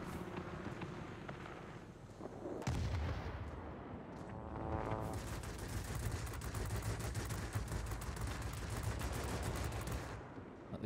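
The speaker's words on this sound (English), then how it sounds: "Let the guns cool down." Naval guns boom in a Wargaming naval battle game, a dense run of heavy blasts and rattling gunfire rolling together at moderate level, with a sharp surge partway through and continuous clatter afterward.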